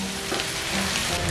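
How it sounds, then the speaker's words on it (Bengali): Spices frying and being stirred in a pan for a Bengali pointed gourd dish, a dense close sizzle with a scraping stir, brief and steady. "এখন মশলাটাকে 1 মিনিটের মতন এইভাবে একটু নাড়াচাড়া করে ভাজা ভাজা করে নিতে"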